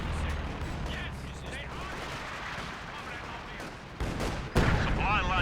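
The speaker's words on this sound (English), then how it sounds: "SU-76 barrage coming in now." An SU-76 artillery barrage in Company of Heroes 2 produces a dense, continuous wash of battle noise with rapid gunfire and sharp heavy impacts toward the end.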